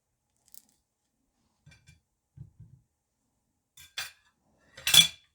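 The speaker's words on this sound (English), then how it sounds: "So I have a big lemon right here. I'm just gonna cut it and squeeze it." A knife slices through a big lemon on a hard surface, giving a few soft taps followed by sharper, louder cuts and a final crunchy slice near the end, close up with no talking.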